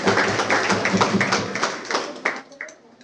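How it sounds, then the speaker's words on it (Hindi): A short burst of audience clapping at a Women's Day honouring event, rising quickly and then thinning out and fading after about two seconds, with a voice speaking over it. "तालियां हो जाए"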